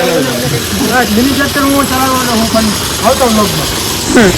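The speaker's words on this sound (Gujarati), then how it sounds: "ટ્રેક્ટર" A tractor engine runs steadily at close range, its low chugging rumble continuing under voices talking over it.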